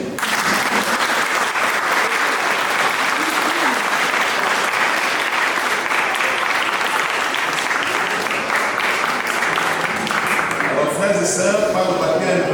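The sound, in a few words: congregation applauding baptized children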